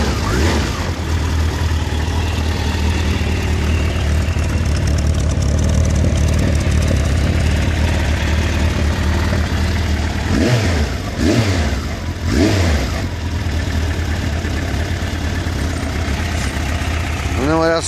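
Suzuki Bandit 1200 motorcycle engine running loud and close, with a steady idle broken by several revs around the middle and end; a person talks over it.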